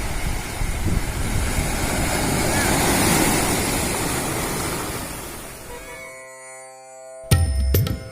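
Sea waves wash against the shore by the Somnath temple in Prabhas Patan, a broad steady surf roar filling the first six seconds before dropping away, followed by a brief burst of other sound near the end.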